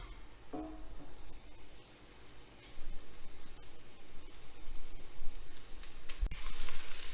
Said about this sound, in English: When I make these too hot, I'm hearing a sizzle.